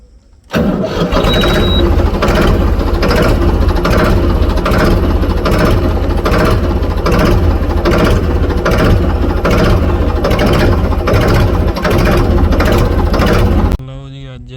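A tractor engine kicks in and runs loud and close in a farm field with a steady chugging throb, then cuts off near the end.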